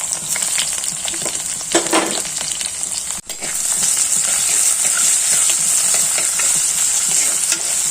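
Ginger, garlic and shallots fry in hot oil with curry leaves for a green-tomato fish curry, giving a steady, close sizzling hiss with a brief stirring clatter and a momentary drop near the middle.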